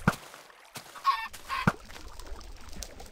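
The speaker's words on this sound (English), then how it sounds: "we'll save as many chickens as we can" Chickens in the Minecraft video game give a few short, sharp clucks spaced apart, fairly close and clear over a quiet background.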